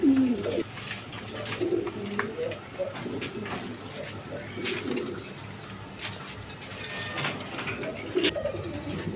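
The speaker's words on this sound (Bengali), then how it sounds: "একদম বিগ সাইজের কবুতর" Big-size pigeons offered for sale coo in low, throaty repeated calls, several birds close by, with faint background noise and occasional chirps.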